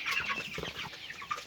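Chickens cluck and fuss in a quick, close burst of short calls, alone with no talking.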